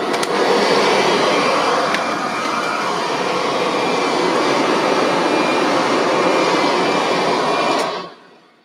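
A Kirby Sentry vacuum cleaner roars steadily at close range, a dense continuous whir that holds for several seconds before cutting off abruptly.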